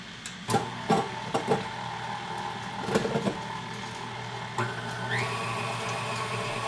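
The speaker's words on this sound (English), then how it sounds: "Get the blender turned on." A blender mixing butter for cupcakes whirs steadily with a few knocks and clatters at first, then its motor pitch rises and holds as it spins on.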